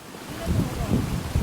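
Strong wind sweeps Casapsapan beach in Aurora, a close low rumble buffeting the microphone and building louder after the first half second, with possible surf underneath.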